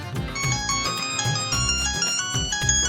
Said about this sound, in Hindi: ये किसकी कॉल आ गई?